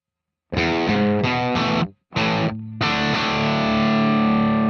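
Distorted electric guitar through a Line 6 Spider V amp plays a few chopped chords, briefly cutting out, then ends on a long ringing sustained chord.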